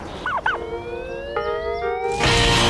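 Turkeys gobble in a quick warbling burst near the start, then a long, steady, rising tone and a louder broadband rush follow, with no talking.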